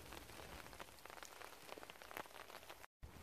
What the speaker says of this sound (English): it is actually raining now. Hear it?